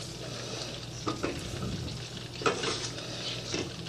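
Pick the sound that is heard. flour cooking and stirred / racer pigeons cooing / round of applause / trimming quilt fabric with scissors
flour cooking and stirred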